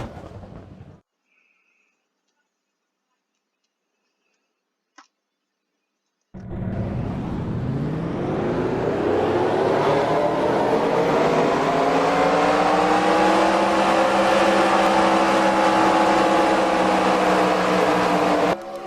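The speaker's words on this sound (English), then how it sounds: "Drivers, start your engines!" Race car engines fire up together at the Kentucky track for a KFC 399 event, a burst of loud, sustained roaring and revving that swells in after a brief quiet spell and holds steady to the end.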